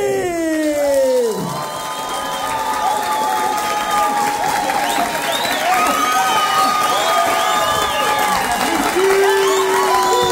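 A live crowd at a Mother's Day comedy show applauds and cheers as the comedian is introduced, with loud sustained clapping, whoops and children's shouts filling the room throughout.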